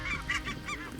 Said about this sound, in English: flock after flock after flock of mostly snows and Rosses coming in